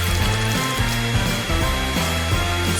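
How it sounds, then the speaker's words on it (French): A hair dryer blows steadily to melt Skittles paint on a cake, giving a constant loud airy whoosh with music playing underneath. "j'ai besoin d'un sèche-cheveux pour faire fondre la peinture des Skittles"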